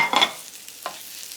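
Carrots sauté gently over medium-low heat, a brief soft sizzle with a couple of quiet stirring scrapes close by.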